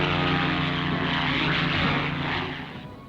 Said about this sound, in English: the Vickers Seagull plane.